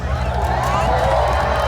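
Crowd noise at a monster truck show in Medina, Ohio, a steady roaring hubbub of spectators that fills the whole short stretch with no quiet gaps, heard under an announcer's amplified voice.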